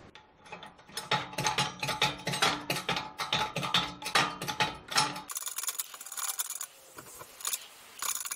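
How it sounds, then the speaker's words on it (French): A wheel bearing is pressed out of the front hub of a 1997 Renault Twingo phase 1. It gives a series of loud rhythmic ratcheting clicks and creaks, then shifts to a quieter, hissier grinding as it comes loose. "Vous voyez quand vous avez ce bruit là, c'est que le roulement s'est décollé puis ça va venir tout seul."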